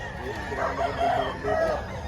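A rooster crows once, a clear drawn-out call at moderate distance over steady background noise.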